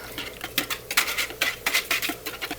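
Eggs with salt and pepper being whisked in a bowl, giving a quick, uneven run of close clinking and tapping strokes that carries on steadily without talk.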